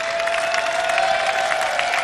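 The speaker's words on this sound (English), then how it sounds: "how about a round of applause for all the athletes we're honored here tonight?" An awards-show audience applauds the honored high school athletes, a steady wash of clapping and crowd noise at even volume with a faint tonal hum underneath.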